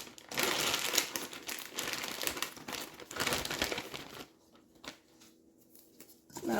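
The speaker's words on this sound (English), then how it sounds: "I'm gonna fold in the bag." A plastic freezer bag holding marinating chicken wings crinkles steadily as it is folded over, a close, continuous rustle lasting about four seconds before it fades to quieter handling and a final crinkle.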